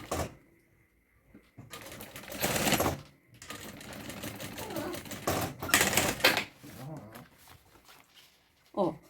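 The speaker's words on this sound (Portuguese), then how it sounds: "Agora eu venho costurando reto aqui" A sewing machine sews a handle onto a thermal bag in a straight line with backstitching, giving uneven close bursts of motor and needle clatter with short pauses and handling noises in between.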